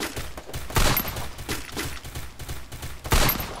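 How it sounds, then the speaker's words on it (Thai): Gunfire in the mobile video game Garena Free Fire, a series of sharp shots in quick irregular succession, moderately loud over a low game background. "ผมจะยิงให้นี่มันตายก่อน"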